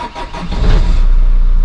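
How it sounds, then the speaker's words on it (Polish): A car engine cranks briefly and catches, settling into a steady, loud low rumble as it runs. "Udało się uruchomić silnik"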